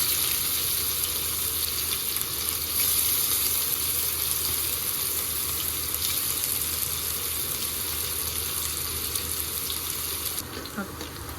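Onions frying in a pan with green chillies and prawns on a stove, a dense continuous hiss and sizzle throughout, close and steady, easing slightly at the end.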